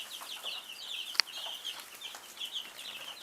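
Steady, high-pitched cheeping from a chick with sticky butt (pasted vent), repeating continuously with a single sharp click partway through, no voices.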